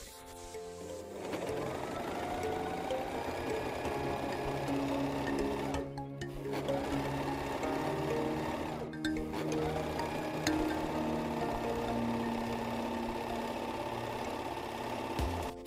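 A Gritzner 788 overlock serger stitching jersey fabric, a close, loud, steady motor hum with rapid mechanical chatter, briefly stopping twice before running on continuously.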